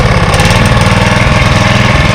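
A lawn mower engine from Japan idles steadily and loudly up close, with a continuous throbbing drone that keeps an even rhythm throughout and has no talk over it.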